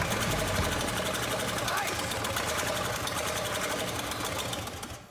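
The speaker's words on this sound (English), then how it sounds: "things start to look up when the original engine comes back to life" An old engine runs with a fast, even mechanical chatter, steady and close throughout before easing off at the very end.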